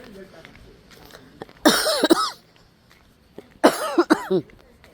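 Two loud bursts of harsh coughing, each a quick cluster of hacks, with quiet murmuring talk in the background between them.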